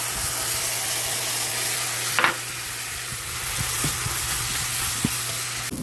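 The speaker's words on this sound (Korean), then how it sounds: "김치전도 만들고요" Kimchi pancake batter frying in a pan, a steady broadband sizzle that holds throughout with a few brief stirring or scraping clicks and a low hum underneath.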